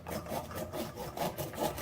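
A knife saws fresh corn kernels off the cob in a repeated back-and-forth rhythm, each stroke a soft, close scraping rasp with short pauses between.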